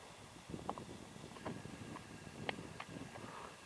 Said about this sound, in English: The wind is kind of being a booger for us today.